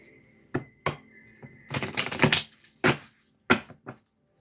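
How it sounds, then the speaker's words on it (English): Cards are shuffled and riffled close by, a quick flurry of papery snaps followed by a few sharp taps as the deck is squared. "Let me shuffle one more time."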